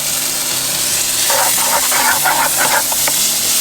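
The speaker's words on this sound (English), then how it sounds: "You add on your bacon. Yeah, we love that sound." Bacon sizzles loudly in a pan, cooked outdoors in a ute camp kitchen for homemade gnocchi, with a steady hiss and crackle and bursts of stirring scrapes partway through.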